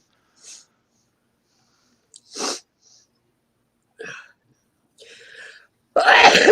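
A single sharp sneeze bursts out near the end, close and loud, after a few quiet breaths and faint small noises.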